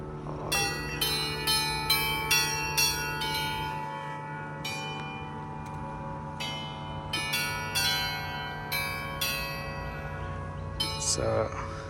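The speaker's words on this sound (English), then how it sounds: "So no one is there to play the bells, but it automatically plays." Federation Bells in Melbourne ring out automatically with no one playing them, a melodic sequence of bright, ringing strikes in repeated clusters with long sustained tones, fairly loud and close, with no speech.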